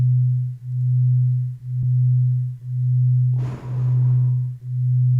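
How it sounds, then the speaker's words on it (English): Binaural audio played through headphones: a steady pure low tone pulsing in slow even swells, with a brief burst of broadband noise partway through. "I have some binaural audio playing through these."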